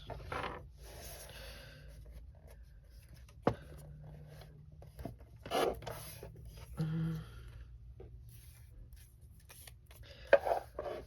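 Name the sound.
paper cutter cutting card to 4 inches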